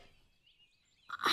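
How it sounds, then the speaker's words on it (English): A single sharp sneeze bursts out at the very end after near silence and a faint high whistle-like tone, close and sudden. "I sneeze."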